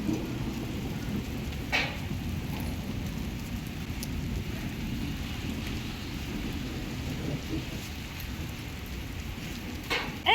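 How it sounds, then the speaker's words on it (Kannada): Heavy rain pours steadily with a deep, rolling rumble of thunder underneath, a continuous roar with a few sharp crackles. "ನಿಮಗೆ ಥಂಡ್ರಿಂಗ್ ಸೌಂಡ್ ಕೇಳಿಸ್ತಾ ಇದೆ ಅಂತ ಅನಿಸುತ್ತೆ."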